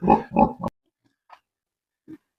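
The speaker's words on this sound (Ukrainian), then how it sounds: "займається такими поросятами" Young piglets on a Ukrainian village farm give three quick close grunts in a row, then a couple of faint, brief snorts after a pause, with no voices.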